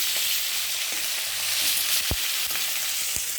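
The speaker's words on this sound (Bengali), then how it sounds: "মাছটা ভাজা করে নিচ্ছি" Fish frying in a pan as part of a one-kilo batch for a spicy fish curry: a steady, close sizzling hiss runs throughout, with a few sharp pops and crackles of spitting oil.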